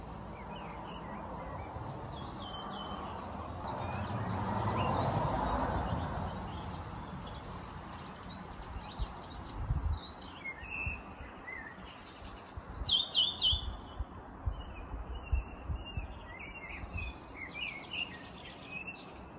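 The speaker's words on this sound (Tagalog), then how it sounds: "yung mga huni ng ibon dito, napakaganda talaga pakinggan guys" Several birds chirp and tweet in a spring forest in the countryside, scattered short calls over a soft background hum, with no talking.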